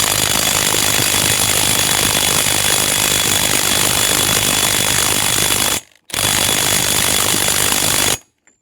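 An old Craftsman power tool, likely an impact wrench, works to loosen a 41 mm nut on a ball joint. It hammers in a loud, continuous rapid chatter, breaks briefly, resumes, then stops.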